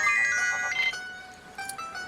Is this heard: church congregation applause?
no